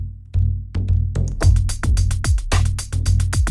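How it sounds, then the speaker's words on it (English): Bendir frame drum sample pitched lower in the Unify plugin, a run of deep resonant booming strokes mixed with sharp buzzy slaps, played in an uneven rhythmic pattern, loud and close without speech. "So I can make my Bendir sound like this."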